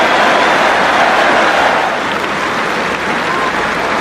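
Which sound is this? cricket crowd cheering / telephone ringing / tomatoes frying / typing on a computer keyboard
cricket crowd cheering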